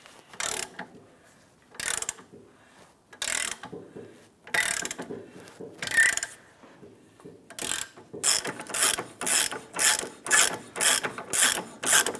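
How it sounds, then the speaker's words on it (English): An 18mm socket on a ratchet loosens the sway bar end link nut on a 2008-2013 Nissan Rogue's rear suspension, with loud clicking bursts in uneven spurts and then a fast regular series of ratchet strokes, close and alone. "Disconnect your sway bar end link using an 18mm socket on the nut side."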